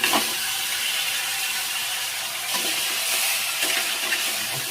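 Mutton tipped into hot spiced masala in a pan gives a loud, continuous close sizzle and hiss, with stirring scrapes rising through it in a few swells.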